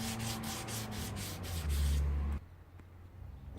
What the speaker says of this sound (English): give it a light sanding, not too much, because we want to keep the grain